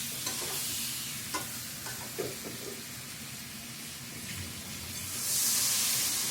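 Sour curry with fried fish sizzles in a pan, a steady soft frying hiss with faint stirring scrapes and a rising steamy hiss near the end, no voices.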